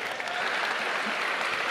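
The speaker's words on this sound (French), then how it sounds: "Je demande d'applaudir Marie" A crowd at a political rally of the French left applauds in a dense, even burst of clapping that holds steady for a moment, with no talk over it.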